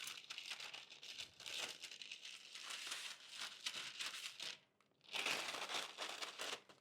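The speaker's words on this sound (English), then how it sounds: "carefully lift the parchment paper away from the hot pan" Parchment paper crinkles and rustles steadily as it is lifted off a hot pan of roasted pumpkin seeds, close and continuous, with a brief pause before the crackling resumes.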